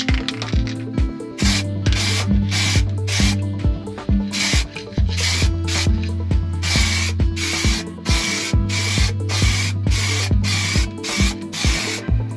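Aerosol rattle-can spray paint applied in a heavier coat to a motorcycle part: repeated short hissing bursts of about a second each in a steady rhythm, close and fairly loud over a low background hum, with no talking.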